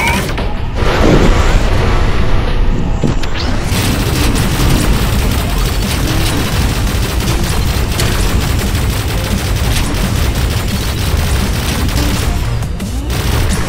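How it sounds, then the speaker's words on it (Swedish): Rapid bursts of enemy gunfire crackle continuously in the VR game Space Pirate Trainer, loud and dense, with occasional louder booms mixed in. "Man hör ju när de skjuter, så det gäller att vara alert på skott och sidesteppa."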